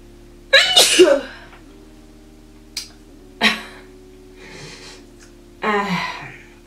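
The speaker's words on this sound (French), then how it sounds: "je mets la poudre là, ça me fait éternuer" One sharp sneeze up close, followed by a few quieter breathy sounds and a sniff.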